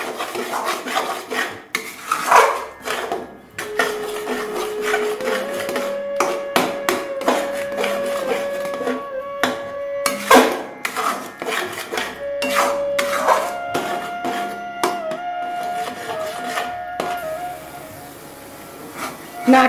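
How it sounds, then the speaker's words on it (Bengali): A kanchagolla sweet mixture made with jaggery is stirred in a kadai, giving repeated scraping and rubbing strokes at close range with background music playing throughout. "নাড়তে নাড়তে দেখো কড়াই থেকে ছেড়ে এসছে, যতক্ষণ না শুকোবে ততক্ষণ নাড়তে হবে।"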